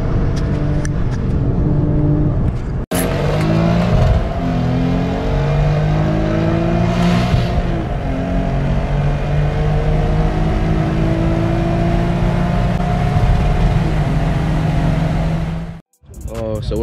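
A Ford Mustang 5.0 races and revs hard, its engine note climbing through repeated gear pulls at close range and full loudness, with a short break before a final rise and abrupt cutoff.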